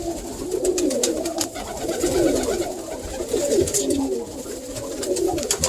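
Pigeons coo continuously in soft, overlapping murmurs, close by, with a few faint rustles and scattered higher bird sounds above.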